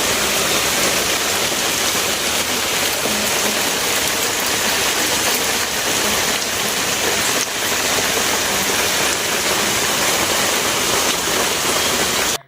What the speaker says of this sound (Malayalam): പുറത്ത് നല്ല മഴയാട്ടാ